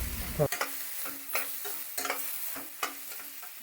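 Onion, green chilies and dried chilies sautéed in oil, with a spatula scraping the pan in repeated strokes about every half second over a steady low sizzle.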